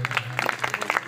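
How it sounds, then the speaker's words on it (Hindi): An audience claps to welcome teachers at a school alumni reunion, with dense, steady applause that lasts the whole moment and sounds close and fairly loud. "तेणु आज समस्ते करताली द्वारा स्वागत करवा"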